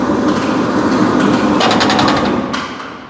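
An industrial press brake runs loud and close with a broad mechanical roar and a rhythmic clanking pulse midway, then spins down and fades at the end.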